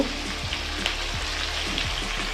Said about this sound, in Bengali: এটা দিয়ে এবার ভাজা ভাজা করব